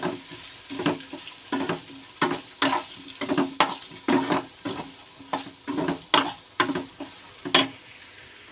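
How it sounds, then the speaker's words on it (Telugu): Salt and turmeric being stirred into a raw banana curry, a ladle scraping and knocking against the pan in a string of sharp, regular strokes close up, with no voices. "సాల్ట్, పసుపు వేసుకుని కలుపుకుందాము"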